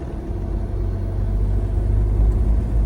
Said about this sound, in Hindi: अब मैंने हल्का सा एक्सेलेरेटर लिया और थोड़ी सी स्पीड बढ़ाई।